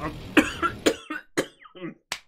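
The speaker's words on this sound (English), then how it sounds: "I don't know what's going on with this cough." Several sharp coughs, close and fairly loud, spaced irregularly with brief pauses between them, the last one a single short bark.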